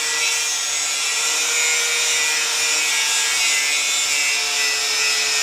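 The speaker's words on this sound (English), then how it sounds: "Those bolts are just so tight, they ain't coming out, so Lucian is cutting the U-bolts." Steel U-bolts on a Ford Ranger chassis being cut with a power tool, a steady, loud, continuous grinding hiss throughout, close up and uninterrupted, with no voices.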